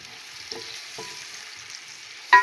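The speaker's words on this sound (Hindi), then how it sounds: "प्याज डाला, इसको फ्राई कर लेंगे।" Onions frying in oil in a pan, a soft steady sizzle with a couple of faint stirring taps and a sharper clatter at the very end, without any voices.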